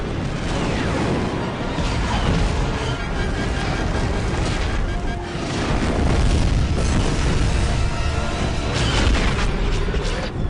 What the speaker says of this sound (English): The flak is too heavy.